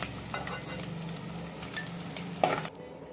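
Egg and dried prawn curry ingredients sizzle and frying in a pan, Andhra style, while a spoon stirs them, scraping now and then, with a brief louder clink near the end before the sound drops away.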